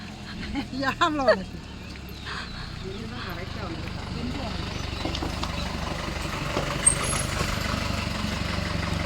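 A jeep pulls up and idles for passengers to board, a steady engine rumble running through the whole stretch. Voices call out loudly at the start.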